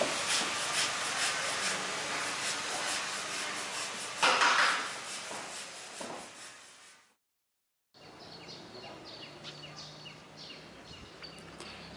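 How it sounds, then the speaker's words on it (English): Continuous abrasive rasping of sanding on a boat, with a brief louder scrape, a short silence, then the sanding resumes. "He and the team will spend the entire day sanding."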